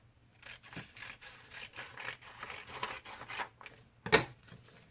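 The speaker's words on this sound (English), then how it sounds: "So what I might do is cut out two strips the same." Scissors cutting out two matching strips for a face craft: a series of quiet, close snips and crisp paper rustles in an uneven rhythm, with one sharper cut near the end.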